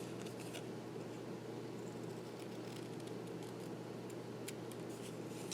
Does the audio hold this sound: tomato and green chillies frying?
no